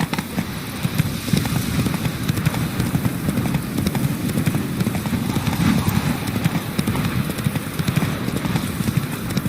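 Roach, a horse in The Witcher video game, gallops with steady rapid hoofbeats close by, a continuous rhythmic clip-clop over low rumbling ambience throughout.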